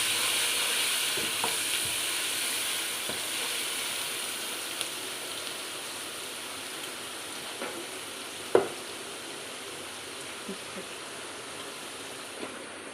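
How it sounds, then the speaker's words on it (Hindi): Garlic ginger paste and whole garam masala frying in a pot give a steady, fairly quiet sizzle that runs throughout, with a few sharp clicks and stirring knocks scattered on top. "अब इसमें हम लहसुन अदरक का पेस्ट डालेंगे और साथ ही ये जो हमारे गरम मसाले हैं ये डाल देंगे"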